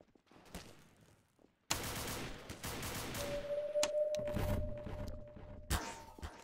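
Sniper gunfire in the Garry's Mod game: a loud sudden burst of shooting opens a dense, sustained roar of shots and impacts, with a tonal ring running under it and another sharp crack near the end.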